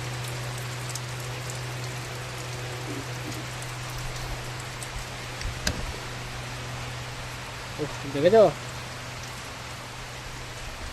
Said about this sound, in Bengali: আর এখানে দেখো মারাত্মক ঝড়ে বৃষ্টি এসেছে।